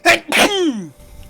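A single loud, close sneeze bursts out with a sharp explosive onset, then trails off into a brief falling voiced tail before quiet.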